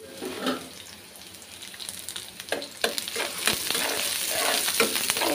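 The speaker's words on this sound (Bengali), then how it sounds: "পেঁয়াজ রসুন একটু ভেজে নিচ্ছি" Onion and garlic fry in a pan for a potol bharta, a close steady sizzle with stirring scrapes and clicks that grow busier toward the end.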